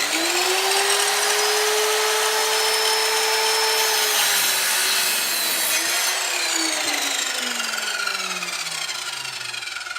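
A Kobalt sliding compound miter saw spins up and bites through plywood with a steady high whine, its pitch sagging as the blade drags through the cut, loud and close with no talk.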